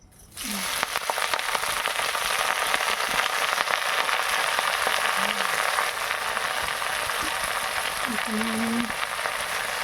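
Leaves fry in hot oil in a wok, giving a steady close sizzling hiss that runs throughout, with a few faint scraping stirs.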